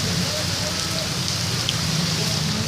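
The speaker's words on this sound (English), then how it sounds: "just started raining like" Steady rain falling outdoors beside a house and driveway, a dense, even hiss with no letup, fairly loud and close throughout.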